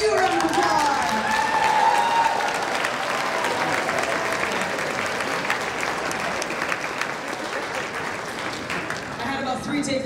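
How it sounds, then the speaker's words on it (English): An audience claps at a concert for standing parents and family members, dense sustained applause filling the room for the whole stretch and easing only a little near the end, with faint scattered voices mixed into the crowd. "So parents, family, please stand so we can give you a round of applause."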